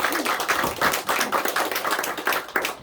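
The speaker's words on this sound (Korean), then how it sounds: "우리 하나님께 영광의 박수를 올려드리겠습니다" A church congregation claps together, a dense and steady patter of many hands lasting a few seconds without pause.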